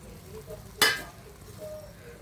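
Kitchen king masala, chicken masala and cumin powder fry with peas in a pan: one sharp, loud scrape of a spoon, then a soft, steady sizzle in the background.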